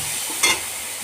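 A close, steady sizzle of garlic paste and prawns frying in a pan, broken midway by one brief scrape of stirring.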